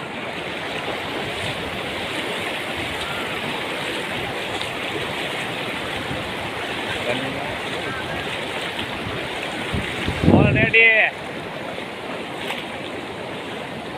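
The flooded Shetrunji river rushes past in a constant, loud roar of churning water that fills the whole stretch, with a short burst of nearby voices breaking in near the end.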